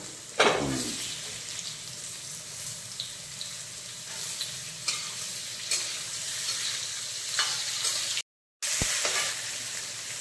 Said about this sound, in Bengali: উচ্ছেটা এইভাবে ভাজা ভাজা হয়ে গেলে দিয়ে দিলাম কেটে রাখা আলুগুলো